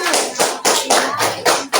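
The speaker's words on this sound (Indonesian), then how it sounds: "tepuk tangan" A small group claps in bursts, several quick rounds of hand claps close by, loud and uneven in rhythm.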